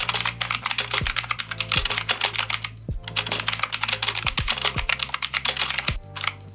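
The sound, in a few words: typing a speed test on BestOff MK15 mechanical gaming keyboard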